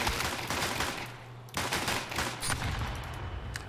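Rapid bursts of automatic gunfire in Counter-Strike, dense rattling volleys that pause briefly and resume, loud and close with no talk.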